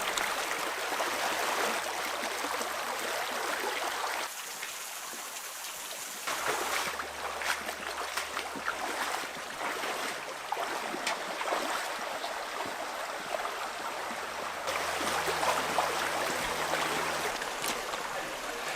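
Shallow river current running over a rocky streambed in the Swiss mountains, a continuous close rush and gurgle of water that dips briefly before resuming, no voices.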